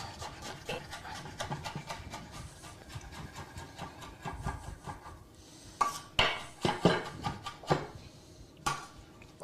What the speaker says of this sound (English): Listen to that knife go.